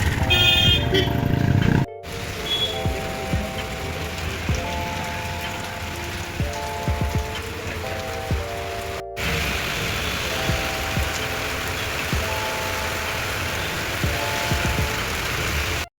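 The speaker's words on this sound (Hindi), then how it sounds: "अभी जस्ट मार्केट में हो गई बारिश" Steady rain patters and hisses on surfaces around a busy market street, with a repeating electronic tone and traffic sounds; brief dropouts break the recording.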